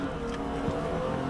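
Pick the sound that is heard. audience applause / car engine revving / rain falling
car engine revving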